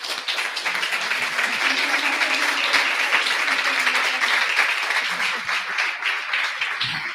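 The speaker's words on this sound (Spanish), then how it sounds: "Podemos aplaudir." An audience at an education and health congress applauds for several seconds, a continuous, even patter of many hands clapping in a hall with no talk over it.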